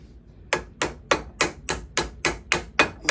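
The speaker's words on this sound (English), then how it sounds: "Tap on the main wedge a little bit. Get it set down in there. Tap on the small ones." A hammer taps wedges into the eye of an axe handle, nine sharp, evenly spaced metallic strikes about a third of a second apart, close and clear with nothing else in the background.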